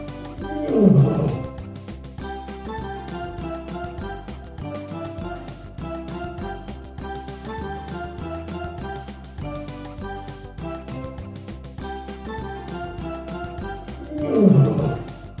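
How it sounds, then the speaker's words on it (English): A lion roars twice, near and loud, once early and once near the end, set over a continuous musical background in a children's toy collection. "Lion."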